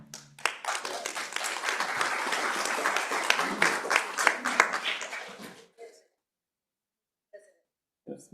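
Audience members at a Milpitas city council meeting clap for about six seconds in a dense burst of applause that cuts off abruptly into near silence, followed by a couple of faint sounds.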